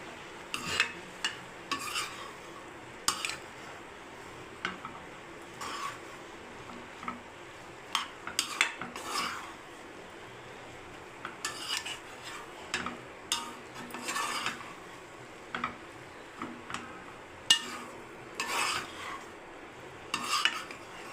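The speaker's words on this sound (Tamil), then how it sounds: "நல்லா அடி வந்து இப்படி கலரி விடுங்க." Bread egg kothu being stirred and chopped in a hot pan, giving repeated scraping and tapping strokes of a utensil on metal over a soft sizzle, steady and close, with no talking.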